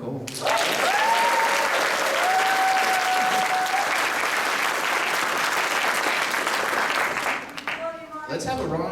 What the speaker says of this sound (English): Let's have a round of applause for Mike Cole